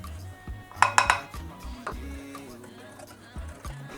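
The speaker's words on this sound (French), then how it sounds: "je vais bien mélanger" Bean flour is mixed into water with a utensil, giving a few clinking and scraping knocks against the bowl. The sounds are close and fairly quiet against a soft room background.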